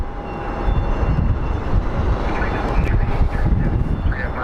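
Airplanes at Phoenix Sky Harbor International Airport produce a steady, loud engine roar mixed with wind buffeting the microphone, continuous throughout with no talk.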